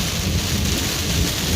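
Heavy rain with a low thunder rumble during a lightning storm, heard from inside a car while driving home, loud, dense and continuous.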